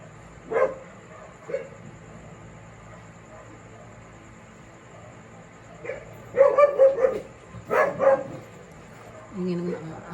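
A few dog barks, some spaced and a cluster of sharp yelps later, at moderate distance over a low background hum; no clear talking.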